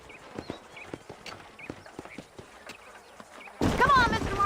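Horses trotting in the Western video game Red Dead Redemption, a quick rhythmic clip-clop of hooves with game sound around them, growing louder and denser near the end.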